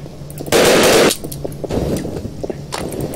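Loud, rapid gunfire in the shooter video game Double Action Boogaloo, with a dense burst of automatic shots followed by more scattered bangs and clattering close up, without any talk.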